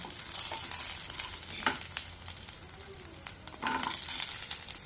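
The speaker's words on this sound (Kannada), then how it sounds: "ಟೊಮೊಟೊ ಕಾಯಿ ಹಾಕೊಳ್ಳೋಣ" Green tomatoes go into a hot pan of frying chutney base and are stirred, giving a steady close sizzle with a few sharper scraping and clattering bursts from the spoon, no voices.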